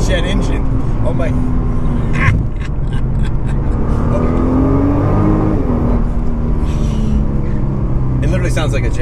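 A 2018 Nissan GT-R Track Edition engine revving hard on a race track, a loud continuous roar with rising whine through the gears and shifts, heard from inside the car while people talk over it.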